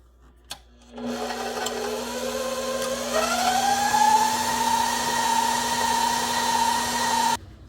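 Electric stand mixer beating flour into cookie dough for tea cake cookies, a steady whirring motor hum that starts after a brief click, rises in pitch as the load changes, and runs continuously alone until it cuts off.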